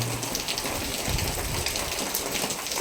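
Steady overnight rain keeps falling in the morning in rural Thailand, a dense, even hiss of drops on surfaces that continues unbroken with no speech.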